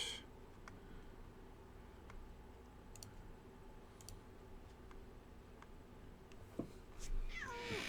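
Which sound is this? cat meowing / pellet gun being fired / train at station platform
cat meowing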